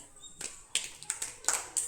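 A short burst of uneven clapping from a small group of children, quick claps scattered over about two seconds, close and moderately loud.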